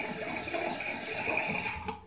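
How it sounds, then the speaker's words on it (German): Lukewarm tap water runs from a faucet into a sink, a steady close hiss that cuts off near the end, with no voices. "Und dann nehme ich ein bisschen lauwarmes Wasser."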